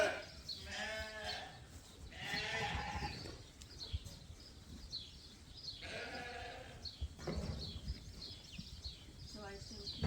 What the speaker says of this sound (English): we've got to sort some sheep for market